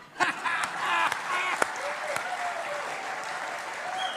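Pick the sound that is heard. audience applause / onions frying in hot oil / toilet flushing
audience applause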